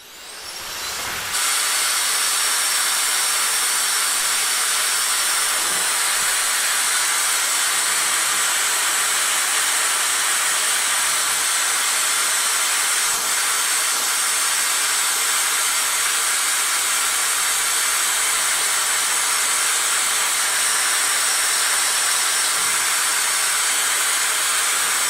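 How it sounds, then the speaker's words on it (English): A steady, loud electric duster/vacuum blows a continuous broadband hiss that starts abruptly after a moment of quiet and runs unbroken, with no talking. "It's a duster / vacuum that I have"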